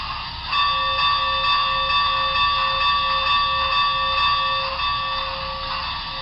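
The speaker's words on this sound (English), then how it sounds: "I forgot that bell was a little loud" A BLI Big Boy model locomotive's sound-system bell rings loudly and steadily, a fast repeating electronic clang with a bright tonal ring, close and alone.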